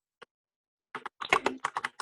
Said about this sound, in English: Really typing.